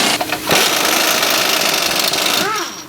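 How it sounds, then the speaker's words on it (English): A 3/8-inch impact gun with an 18mm socket loosening the lower rear shock absorber bolt on a 2007 Chevrolet Equinox gives a loud, close, continuous hammering rattle, with a voice briefly heard near the end. "Back to our 18mm socket, 3/8 impact gun again. Loosen the bottom of it."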